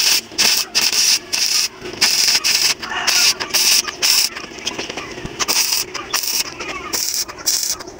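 Arc welding on a motorcycle muffler with a 6013 electrode, giving an intermittent crackling buzz in bursts of a second or so, broken by short pauses throughout.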